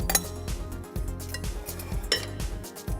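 A large bowl handled while preparing microwave masala vegetables, with repeated close clinks and clatters of utensils and dishes in quick, uneven bursts.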